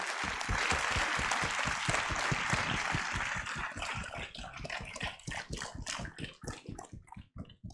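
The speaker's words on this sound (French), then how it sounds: "Applaudissez-les bien fort, vous êtes bien chauds maintenant," Festival audience at a film festival closing ceremony applauds loudly and steadily, the dense clapping thinning into scattered individual claps toward the end.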